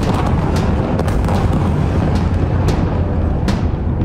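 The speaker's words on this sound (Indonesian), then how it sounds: "Dua ledakan besar menghancurkan sejumlah bangunan." Large explosions destroy buildings in Gaza City during bombardment, a dense continuous roar of booms and rumbling with repeated sharp blasts throughout, loud and sustained.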